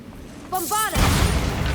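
A Bombarda blasting spell goes off in Hogwarts Legacy on PS5, a short vocal-like cast giving way to a loud, broad rumbling blast that fills the second half of the moment.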